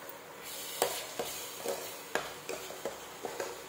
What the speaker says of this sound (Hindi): इसे अच्छी तरह से भूनते हैं ऑयल के छोड़ते तक